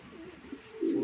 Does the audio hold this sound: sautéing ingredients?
no